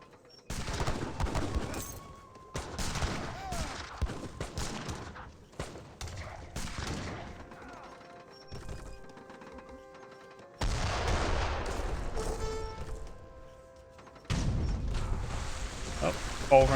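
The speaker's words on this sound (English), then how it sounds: "Mortars firing away, or howitzers, I should say." Mortars or howitzers firing in a French versus Russian Age of Empires 3 battle, a run of bursty booms and gunfire in clustered volleys, with a narrator talking throughout.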